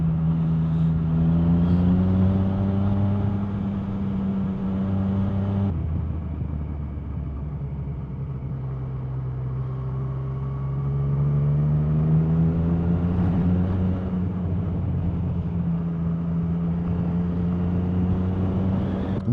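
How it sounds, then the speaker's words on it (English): Motorcycle exhaust drones steadily on the move beside a cliff face in a Spanish pine forest, a loud continuous engine note rising and falling gently with throttle, one brief shift in tone partway through. "we're listening to my exhaust resonate off the cliff face"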